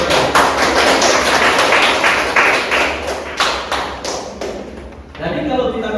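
Students in a classroom give a short burst of applause, a quick run of claps close by that fades out, while someone speaks over and after it.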